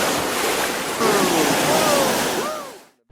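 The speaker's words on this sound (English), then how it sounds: "We hit some rapids here, and the water come over the top of the raft" River rapids on the Nahanni rush and splash loudly over a raft, a dense continuous roar of churning water with brief faint voices, ending abruptly in silence.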